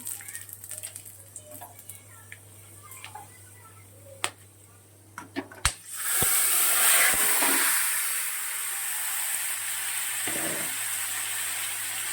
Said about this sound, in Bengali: গোলমরিচ, গোটা এলাচ, দারচিনি, লবঙ্গ সব গোটা নিয়ে নিয়েছি। ফোড়নে দিয়ে দিচ্ছি।